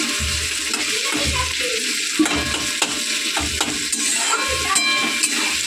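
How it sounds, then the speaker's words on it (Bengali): Potatoes frying in a pan while being stirred, steady sizzling broken by repeated scraping and clinking of a spoon against the pan at an uneven rhythm. "আমি কিন্তু আলুগুলোকে দিয়ে দিয়েছি। দিয়ে কষিয়ে নিচ্ছি।"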